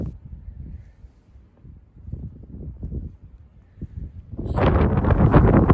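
Gusty wind buffets an unshielded phone microphone outdoors on a countryside walk, low rumbling swells at first that build into a loud, roaring blast near the end.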